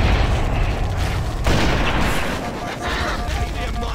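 A frag grenade detonation in Halo: Combat Evolved lands amid dense, loud game combat noise, with another heavy burst about halfway through over a constant din of battle.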